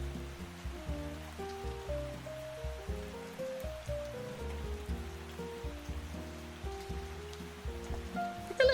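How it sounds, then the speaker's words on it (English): Recorded rain falling steadily on a surface, mixed with soft jazz music, a continuous low background wash at moderate level with no voices. "I've got myself some little rain sounds and some jazz."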